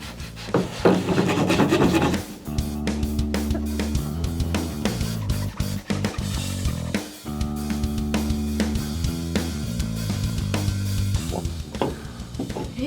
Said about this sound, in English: we're just using a rasp, I think this is called, and some sandpaper to smooth everything out